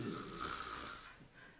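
A voice imitates a bleeding princess snoring while slung over a horse, giving one drawn-out rasping snore that fades at the end.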